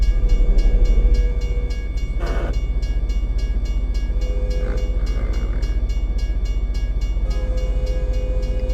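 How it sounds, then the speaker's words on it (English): A train passing in the truck driving game American Truck Simulator, a steady rhythmic rumble with regular clacking pulses and a low engine drone, fairly loud and continuous, with brief horn-like tones over it and no talk. "Where's the train? I hear the train."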